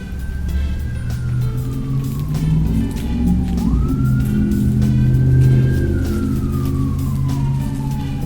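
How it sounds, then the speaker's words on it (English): A fire truck siren wails up and down in long sweeps over heavy road traffic, loud and fairly near, with engines rumbling underneath. "Cars and trucks and everything are loud tonight. Must be a bad wreck. There's a fire truck coming."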